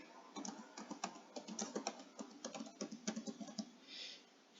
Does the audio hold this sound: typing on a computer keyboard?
yes